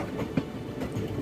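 An Indian Railways train runs on the Kollam–Sengottai line, giving a steady rolling rumble with soft rhythmic wheel clacks over the rails, heard from on board at moderate loudness.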